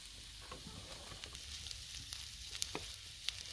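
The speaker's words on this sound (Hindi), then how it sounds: "अभी हम इसे थोड़ी देर के लिए तेज़ आंच पे पकाएंगे।" Okra and gram flour sabzi cooks on high flame in a pan, giving a faint, soft sizzle with occasional small pops and clicks, close by and without talk.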